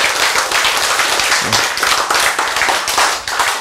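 An audience applauds steadily at a church sermon, a dense wash of many hands clapping throughout, loud and close with no pauses.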